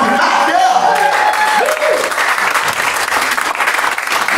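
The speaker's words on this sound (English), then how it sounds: "Have a round of applause for the staff and Jimmy" Loud applause and clapping from a crowd at the Imperial Music Venue in Mexborough between songs at a concert, dense and continuous with a few cheers mixed in.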